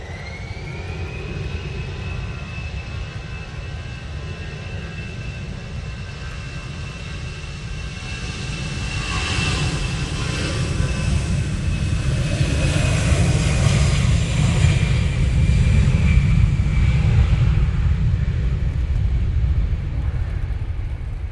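Airliner departing Manchester Airport in wet, windy weather, a distant jet roar with a high engine whine that swells and grows louder as the plane climbs away, then lingers as a broad rumble, no talk.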